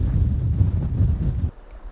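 Wind buffets a microphone on an exposed, precipitous coastal island point beside cliffs, a steady low rumble that cuts off abruptly near the end, leaving a quieter background.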